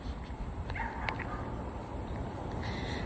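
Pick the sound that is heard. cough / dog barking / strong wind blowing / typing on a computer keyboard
dog barking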